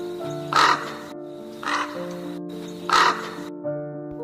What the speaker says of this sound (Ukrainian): Гава.